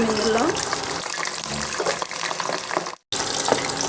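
Homemade French fries go into hot oil for deep frying, setting off a loud, broad sizzling hiss that continues for several seconds, cut by a brief silent gap, with a voice speaking over it.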